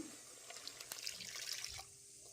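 Water pours into a mixer jar holding ground masala while goat head and trotter sambar is being made, a soft, close trickle and splash that stops near the end.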